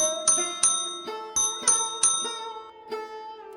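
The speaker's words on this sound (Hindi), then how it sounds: "तभी पीछे से एक साइकिल की घंटी बजती है।" A bicycle bell rings in a run of bright metallic dings, about seven strikes in uneven rhythm with ringing decay, loud and close with nothing else behind it.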